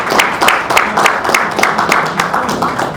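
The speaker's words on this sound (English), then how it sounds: "Please a round of applause." A round of applause at a runway jazz event as a guest is welcomed to the stage, a steady rhythmic patter of many clapping hands, loud and close, with crowd murmur underneath.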